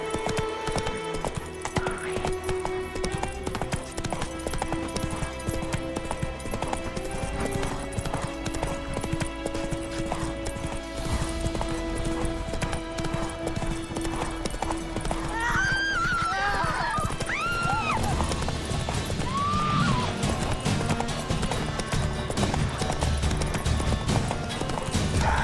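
Roach, a horse in The Witcher 3, gallops with steady hoofbeats and lets out several whinnies midway, all over a continuous bed of game music and ambience.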